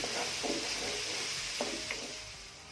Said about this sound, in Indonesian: bumbu halusnya ditumis sampai benar-benar wangi ya guys